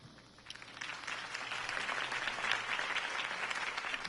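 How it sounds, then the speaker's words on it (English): A crowd in the video game Batman: The Telltale Series claps and applauds after a campaign speech, building quickly into a steady, dense wash of clapping that carries on without any voices. "could have heard that applause"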